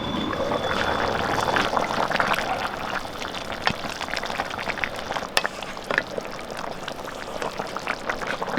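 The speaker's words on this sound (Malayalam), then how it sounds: "നമുക്ക് തുറന്നൊന്ന് ഇളക്കി കൊടുക്കാം" Lid lifted off a pot of varutharacha chicken curry and the thick gravy stirred, giving wet bubbling and scraping with soft clinks of the spoon against the pot, steady and close.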